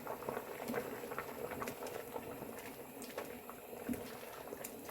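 A pot of spicy Korean chicken soup with bean sprouts bubbles on the stove, giving a steady, soft, close boiling patter with small pops.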